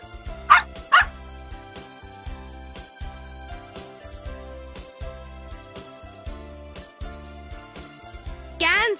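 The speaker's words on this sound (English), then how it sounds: "Dog." A dog gives two sharp, close barks in quick succession at the start over steady background music, and a voice speaks near the end.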